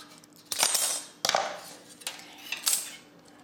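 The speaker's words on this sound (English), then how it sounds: "Snip it with the scissors." Scissors cut a strip of aluminum for making cookie cutters, with three or four quiet, crisp metallic snips spaced about a second apart, close and alone.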